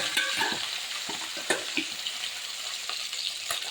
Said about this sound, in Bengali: তেল গরম হয়ে গেছে, এবার আমি মাছ দিয়ে দেবো, ভেজে নেব মাছটাকে